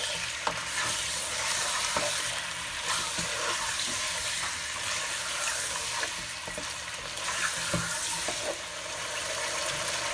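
Garlic and ginger paste frying in a pan for achari chicken, a steady close sizzle with scraping spoon strokes stirring through it at an even pace, no voices.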